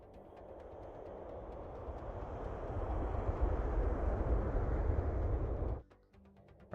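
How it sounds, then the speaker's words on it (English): A surround flyby effect from Halo 3 builds from a low rumble into a broad, roaring whoosh that swells over several seconds, then cuts off abruptly, leaving a faint residual tail. "So we have surround flybys."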